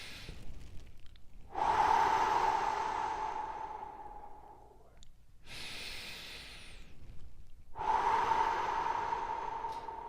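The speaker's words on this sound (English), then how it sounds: "3 deep breaths as usual" Three slow, deep breaths, each a long airy inhale and exhale, spaced evenly with short silences between, heard close up and alone during a guided relaxation after a run.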